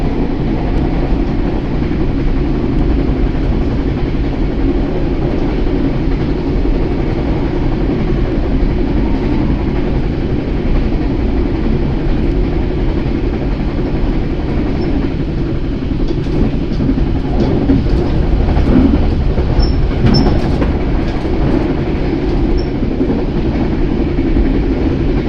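Ranggajati economy-class passenger train of PT Kereta Api Indonesia running on rails toward Purwokerto, a loud, steady rolling rumble lasting throughout with faint intermittent clacks and squeals, no voices.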